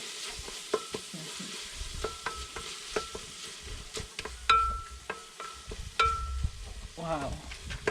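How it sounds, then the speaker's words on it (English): Onions and tomatoes frying in a pan over a village cooking fire, a low steady sizzle broken by sharp clicks and scrapes of a spoon stirring, close by. "after the onions have turned golden brown, I have to add some tomatoes like this"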